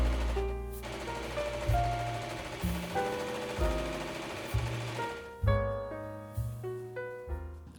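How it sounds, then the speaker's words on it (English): A sewing machine stitching two pieces of fleece into a pillowcase-like puppet body cover, running in a rapid, repeated mechanical chatter with short pauses between seams. "2 pieces of fleece, right side to right side, cut it out, and then sew it up into basically a pillowcase."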